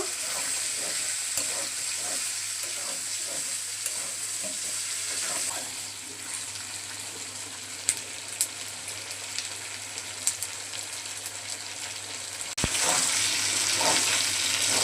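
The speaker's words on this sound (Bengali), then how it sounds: "এখন পেঁয়াজ রসুনগুলো হালকা করে ভেজে নেব।" Onions and garlic sizzle and fry in a pan for Bengali chicken khichdi, with steady crackling, stirring scrapes and a few clinks, growing slightly louder near the end.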